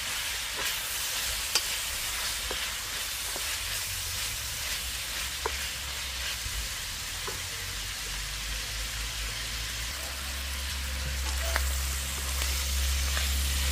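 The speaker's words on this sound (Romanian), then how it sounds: "Legumele nu trebuie lăsate prea mult. La prăjit." Mixed vegetables stir-frying in a hot pan for Chinese-style pork noodles, with a steady close sizzle and occasional scrapes and clinks of the utensil, continuous throughout with no talking.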